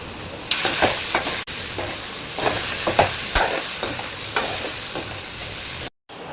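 Masala-coated shark fish pieces frying with onions in a pan give a steady, close sizzle, with bursts of crackle and scraping as the mix is stirred, alone without talk.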